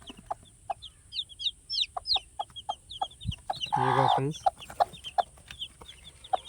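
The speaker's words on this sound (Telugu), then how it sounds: "ఇదిగో కోడి గూడు అయితే ఎలాగుందో చూడండి పిల్లలు ఉన్నాయి" Chickens cluck and a rooster calls around a chicken coop with chicks in a tribal village, with sharp repeated clucks and one louder, drawn-out call in the middle while someone speaks briefly.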